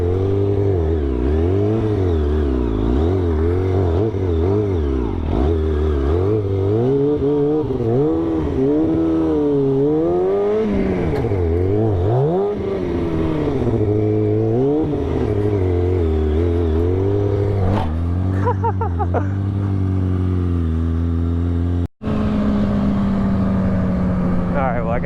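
Car driving along hometown roads after a stop for gas, its engine a steady drone with shifting pitch as it speeds up and slows, continuous throughout with a brief dropout near the end.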